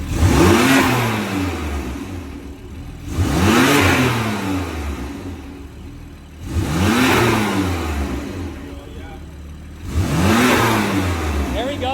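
Car engine fitted with an Eventuri carbon fiber intake revs hard in four long sweeping bursts, each climbing and falling off, close and loud, with people talking between the revs.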